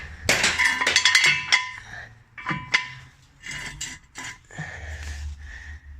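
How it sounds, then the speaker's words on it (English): Metal jack stands set under a Subaru near the pinch weld: a burst of sharp metallic clinks and clanks, then several scattered knocks and scrapes at close range, with quiet pauses in between. "And then we'll just chuck the stands under."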